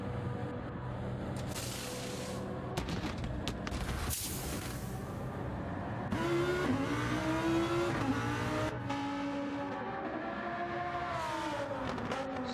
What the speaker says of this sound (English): So that is Typical Gamer coming out in P8 after the tyre change onto another set of softs